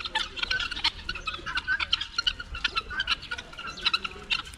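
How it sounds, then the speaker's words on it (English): A flock of domestic fowl gathered at water keeps up busy overlapping chirps and clucking calls, fairly close and continuous over a low background rumble, with no talking. "My birds have come, they're drinking water."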